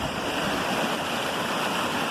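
Forest stream flowing past a fallen log and rocks, a steady close broadband rush of water with no pauses.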